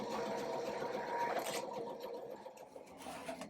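An embroidery machine stitches out a design with a fast, steady mechanical whir and needle chatter, close and continuous, easing slightly toward the end.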